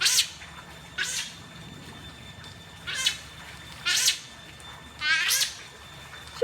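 Giant river otters give a series of high, squealing calls, five or six separate bursts spaced about a second apart, close and fairly loud against quiet background.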